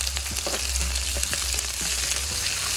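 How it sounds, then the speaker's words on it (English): Onion frying in a pot for iguana curry, a dense, continuous close sizzle and crackle of hot oil with faint stirring taps, no speech. "That's gonna fry up until it turns nice and caramel."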